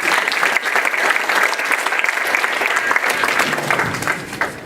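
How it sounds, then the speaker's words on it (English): An audience at an IEEE skills workshop breaks into a round of applause, many hands clapping in a continuous, fairly loud crackle that stays steady and thins slightly at the very end, with no talking over it. "Right, give Ashan a round of applause."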